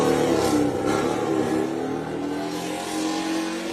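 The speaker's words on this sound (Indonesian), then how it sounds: "dengerin dulu seperti apa raungan dari mesin yang kita duga sebagai M1 V4" A Yamaha MotoGP M1 V4 racing engine revs hard and steady, a loud raspy roar with a brief dip before climbing again.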